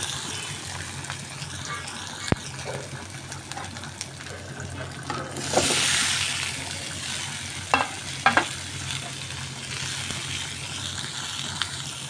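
Peeled small potatoes fry in hot oil in a kadai, a soft continuous sizzle with a louder burst of spitting midway and a few sharp stirring clicks, fairly quiet and without talk.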